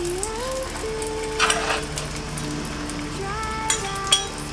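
A maida paratha cooks on a pan with a steady low sizzle, punctuated by a few brief metallic clinks and scrapes of utensils against the pan; faint background tones hum underneath, with no talk.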